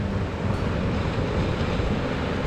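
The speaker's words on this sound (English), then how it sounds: "The calming of the waves," Ocean waves wash steadily onto a Florida beach, a continuous close roar of surf with some wind buffeting, and no voices.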